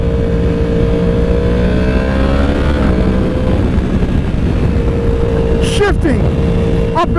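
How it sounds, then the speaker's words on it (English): A 2015 Yamaha R1M motorcycle shifting up and down without the clutch through its auto blipper, the engine droning and sweeping in pitch between gears, loud and close, with one sharp blip near the end. "Shifting up and down without the clutch on the Yamaha R1M after the recall."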